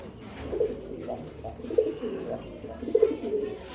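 Pigeons at a breeding loft coo in soft, low bursts, several distinct calls spread across the moment over a murmuring background, fairly close by.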